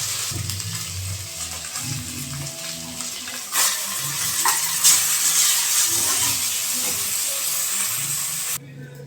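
Fish frying in hot oil gives a steady, close sizzling hiss for several seconds, swelling slightly midway, with faint low murmuring beneath.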